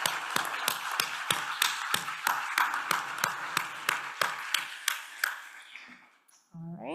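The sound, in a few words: audience applause for conference organizers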